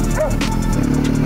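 A dog barks briefly on a sandy track during a motorcycle ride, one short close yap rising over a steady low engine rumble.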